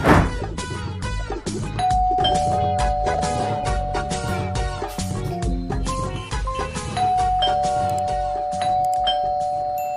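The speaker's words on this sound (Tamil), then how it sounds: "யார் அது காலிங் பெல் அச்சு அடிச்சு விளையாடுறது" A doorbell rings over and over in quick, insistent chimes, a bright electronic tune repeating loudly and without a break.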